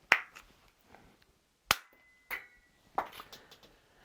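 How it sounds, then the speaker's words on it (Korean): Sharp plastic clicks and snaps as a hollow plastic ball is pushed into a spring-powered toy flare gun and the loading handle is worked, several distinct close clicks with quiet gaps and one brief ringing ping. "공을 딱 소리가 날 때까지 넣어주면 발사 준비 완료입니다"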